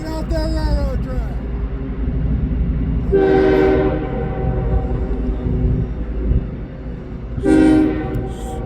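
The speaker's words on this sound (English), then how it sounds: "there's a CSX train incoming" A CSX freight train rumbles steadily past nearby while its horn sounds two loud, sustained blasts, several seconds apart.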